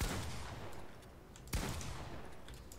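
A pump shotgun fires in a video game, two sharp booming blasts about a second and a half apart over a constant noisy background, with no talk.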